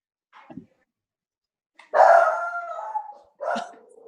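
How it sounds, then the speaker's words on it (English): A dog barks and then breaks into a long, wavering howl, ending with another short bark-howl. It sounds nearby against near silence, heard during an online violin class. "love the dog"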